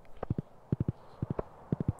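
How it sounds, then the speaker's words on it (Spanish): Horse hooves clip-clop on a farm in the video game Stardew Valley, a steady rhythm of paired and tripled hoofbeats repeating about every half second, fairly close and clear with no talking. "qué cómodo ir a caballo"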